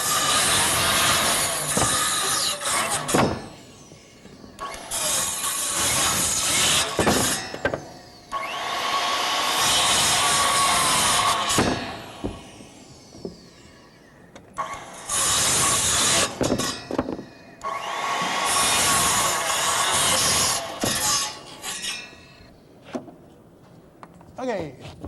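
A power saw cuts roof lumber during a roof-cutting demonstration, running in several long loud bursts separated by short pauses, with a voice heard between the cuts.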